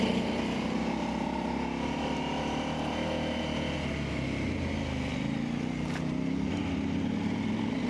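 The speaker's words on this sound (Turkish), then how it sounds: "hiç tutunmuyor motor. Motorun arka teker çok kayıyor." Enduro motorcycle engine droning loud and steady on a rough trail as the rear wheel slips, a continuous close rumble with wind buffeting and no clear pauses.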